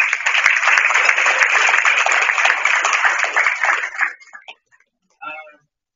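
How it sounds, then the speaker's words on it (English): Banquet audience at a convention's Saturday evening dinner applauding loudly for about four seconds, dense close clapping that stops abruptly, followed by a few scattered claps and brief murmurs. "give yourselves a round of applause."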